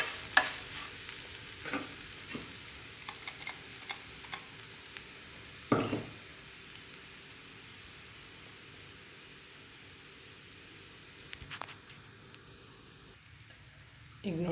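Dry spice powders fry in a pan for fenugreek-leaf rice, giving a faint steady sizzle with occasional scrapes and knocks of a spoon stirring, with no voices.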